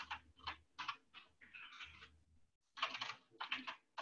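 Computer keyboard typing comes in quick bursts of soft clicking keystrokes, close and fairly quiet, with a short pause midway.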